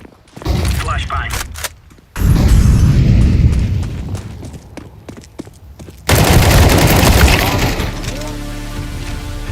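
A flashbang grenade and bursts of gunfire ring out in a Counter-Strike 2 match, loud rapid shots and booms in two heavy waves with players talking over the action.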